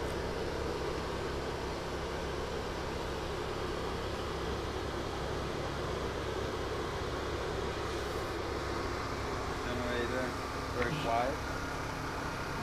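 A 4200 BTU MPS mini heat pump air conditioner running in heat mode gives off a constant, even whooshing drone of fan and compressor noise that stays level throughout, with a faint tonal chirp near the end.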